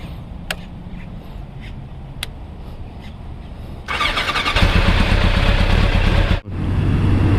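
Kawasaki ZZR1100 motorcycle engine, first faint and idling under wind, then suddenly loud and roaring as the bike pulls away, with a brief dip like a gear change before the roar resumes.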